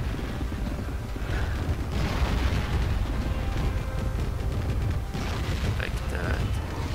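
Guns fire constantly in a Total War 1942 battle between Finland and the Soviet Union, a dense stream of booming shots and rolling rumble with a voice faintly under the din.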